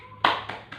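Three sharp hand claps in a quick rhythm, the first loudest and the next two softer, performed as a group spirit clap in a training session.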